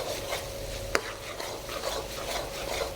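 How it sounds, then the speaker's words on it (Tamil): Masala mixture for a mutton dry fry sautés in oil while being stirred, a soft continuous sizzle with scraping of the spoon and one sharp clack partway through. "இந்த மசாலா கலவையை நல்லா கூடுமான வரை எண்ணெய் பிரிஞ்சு வர்ற அளவுக்கு நல்லா வதக்கிடணும்."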